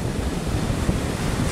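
Strong sea waves during a storm batter a boat out on open water, a loud, churning roar of surf mixed with heavy wind buffeting the microphone, continuous and close.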